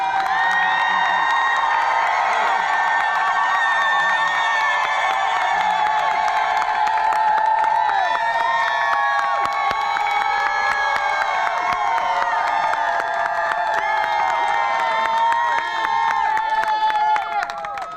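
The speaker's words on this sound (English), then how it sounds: "give yourselves a rousing round of applause so they can hear you inside" A rally crowd outside the Supreme Court cheers loudly, many voices shouting and whooping together in a sustained, dense roar that lasts throughout.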